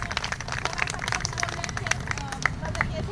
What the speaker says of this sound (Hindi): तालियां, तालियां, तालियां, तालियां, शाबाश, शाबाश